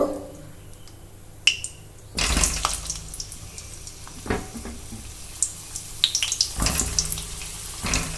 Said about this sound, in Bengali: তেল গরম হয়ে গেছে এবার কিন্তু আমি পটলগুলো তেলের মধ্যে দিয়ে দেব